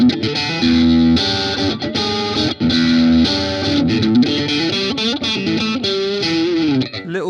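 Electric guitar with single-coil pickups playing big strummed chords through a Blackstar HT-1R MkIII tube amp on overdrive: loud, gritty distorted chords ringing out with brief gaps between changes and a sliding bend at the end.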